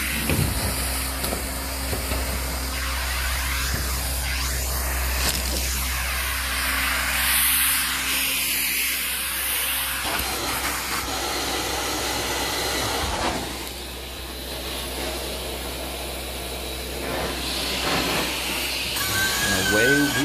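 A carpet cleaning machine rinses and vacuums a very dusty carpet, giving a loud steady hiss and suction roar throughout that shifts in tone as the wand moves, with a brief drop partway through.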